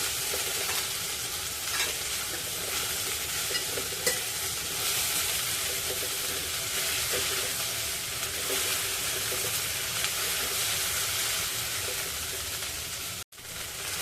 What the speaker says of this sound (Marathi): भेंडी हाय फ्लेमवर परतून घ्यायची आहे फ्लेम हाय ठेवायची आहे